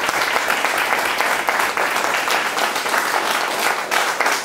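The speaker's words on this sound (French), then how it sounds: "Monsieur Ndalagraï, on peut applaudir." An audience in a hall applauds at a literary reading event, a loud, dense wash of many hands clapping continuously at an even level throughout, with no voices over it.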